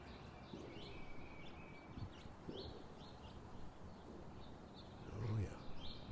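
Starlings gather at a backyard bird feeder, giving scattered chirps and short whistled calls over a steady outdoor background, with a louder burst of activity near the end.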